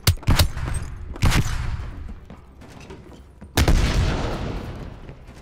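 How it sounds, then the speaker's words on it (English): A flashbang grenade bursts in Call of Duty: Black Ops Cold War, three sharp loud blasts spaced over several seconds, each trailing into a rumbling decay, with no voices. "Flashbang sent."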